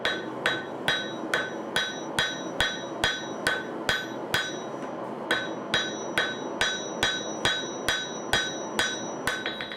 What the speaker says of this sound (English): Now I'm forging a bevel into the blade.